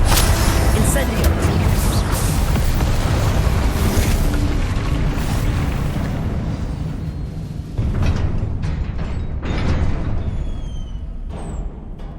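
A fire spell cast in the video game Hogwarts Legacy, heard as a loud, sustained roaring burst with booming rumble that fades partway through, then swells again amid continuing combat noise.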